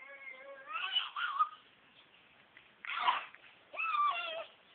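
A cat meows several times, drawn-out tonal cries with pauses between them, fairly faint and close in a quiet indoor space with no talking.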